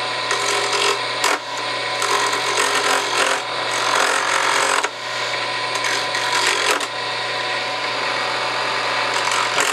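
Wood lathe spinning a hardwood pen blank while a 3/8 spindle gouge cuts it, giving a loud continuous rasping, scraping noise over a steady motor hum, with brief dips where the tool lifts off the wood.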